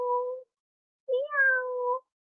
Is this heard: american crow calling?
no